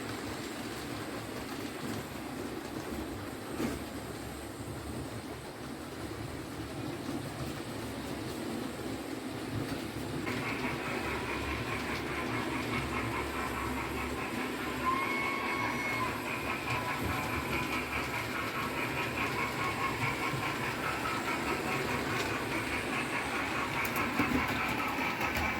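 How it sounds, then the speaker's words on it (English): A model railway layout running a train with its sound-effects soundtrack, giving a steady rolling rumble with a hiss that grows fuller about halfway through, continuous and at a constant level with no voices. "it's nice to see if all the train and the soundtrack is working"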